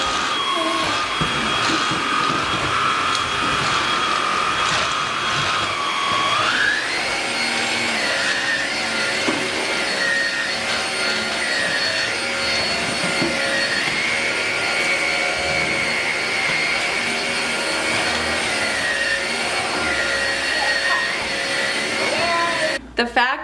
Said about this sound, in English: He loves to help his mommy vacuum